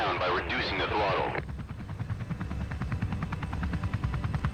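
Steady rhythmic thrum of a Comanche helicopter rotor in a flying video game, continuous chopping pulses beneath a voice that talks over the first part.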